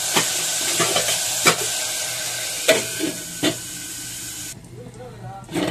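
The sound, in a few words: taro (chamagadda) curry frying in a covered pan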